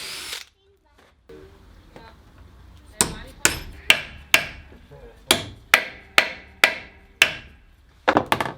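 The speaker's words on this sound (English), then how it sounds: "The nut is then bluntly hammered on it." A claw nut hammered into a wooden leg, a series of sharp metallic-wooden hammer blows, about ten strikes in a fairly steady rhythm, close and loud after a quieter lead-in.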